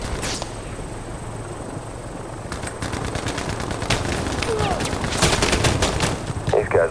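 Rapid bursts of automatic gunfire crackle through a Battlefield Mobile firefight, sporadic at first and then building into dense, loud volleys over steady background rumble.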